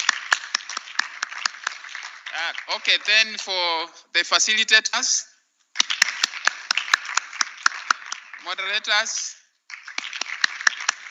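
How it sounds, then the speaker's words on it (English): Audience clapping at a Kenya School of Law annual conference, dense applause running through most of the stretch and pausing briefly, while someone talks over it on a microphone. "let us clap for ourselves"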